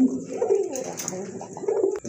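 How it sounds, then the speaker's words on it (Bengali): Domestic pigeons, including a black and white pair in a pigeon collection, coo softly and repeatedly at close range, low throaty calls rolling on through the stretch with faint background noise. "আরেক জোড়া ব্ল্যাক এন্ড হোয়াইট কালার ভিতরে গোটা কবুতর আছে"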